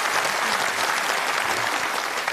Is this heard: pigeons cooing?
no